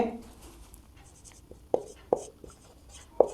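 Handwriting on paper or a board during a maths lesson, heard as a few separate tapping strokes with gaps between them, and a voice briefly audible at the start.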